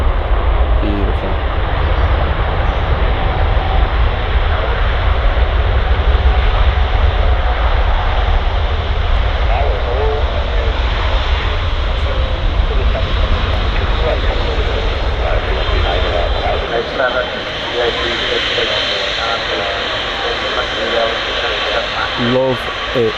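A Boeing 737 Max airliner landing at Manchester Airport and using reverse thrust, a loud sustained jet roar that swells and then gradually fades, with people talking over it.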